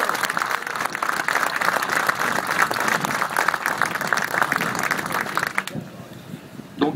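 A crowd at a general assembly of Grandpuits refinery workers gives dense, sustained applause for nearly six seconds, then it thins abruptly to a few scattered claps and room murmur.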